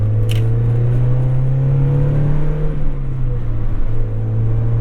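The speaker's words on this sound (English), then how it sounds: "that catback exhaust you got on there is like just the right volume level to where it's not obnoxious" Mazda Miata small four-cylinder engine with a catback exhaust, a steady low drone heard from inside the car while driving, with a slight shift in pitch midway and a soft background of road and wind noise.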